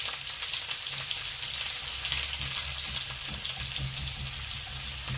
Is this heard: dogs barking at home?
no